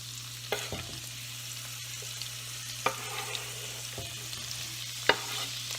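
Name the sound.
peppers and onion frying in bacon grease in a pan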